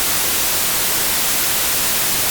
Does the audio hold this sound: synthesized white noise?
yes